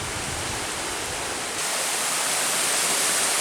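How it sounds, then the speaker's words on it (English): A waterfall beside a hiking trail roars in a steady broadband rush, close and constant, with no voices. "there's another waterfall back there"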